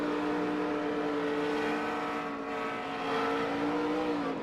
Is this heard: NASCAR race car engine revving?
yes